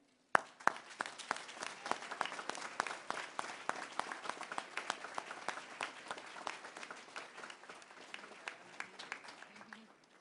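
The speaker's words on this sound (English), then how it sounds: "will you please stand so our graduates can recognize you with applause?" Audience at a college commencement ceremony applauding graduates, a sustained round of clapping from a large crowd, fairly distant and soft, holding steady for the whole stretch.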